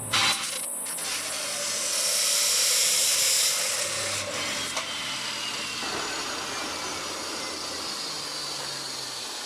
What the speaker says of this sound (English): I've just cut a few pieces of metal just to the shape